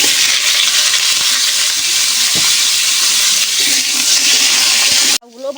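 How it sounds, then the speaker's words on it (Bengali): Sliced bottle gourd sizzles in hot oil in a pan, a loud, continuous frying hiss that stops abruptly near the end, followed by a brief voice. "এবারে লাউগুলো হালকা করে ভেজে নেব।"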